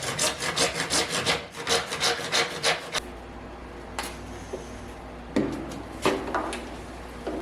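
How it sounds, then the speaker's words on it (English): A handsaw cuts through PVC pipe for a chicken coop build, with a steady run of rhythmic rasping strokes for about three seconds, then a few isolated scrapes and knocks nearby. "I'm going to cut some PVC and start like dry fitting this all together."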